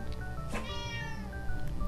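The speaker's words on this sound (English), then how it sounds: "Kitty cat." A cat gives one clear, drawn-out meow indoors, moderately close, over a steady hum of background noise with a couple of faint chirps.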